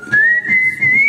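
A single clear whistled note, held steadily for about a second and drifting slightly upward in pitch, loud and close with a soft low murmur beneath.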